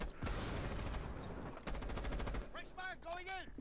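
Rapid automatic gunfire shooting through walls in Rainbow Six Siege, dense loud bursts in two long strings, followed by shorter clattering shots and metallic ricochet-like pings.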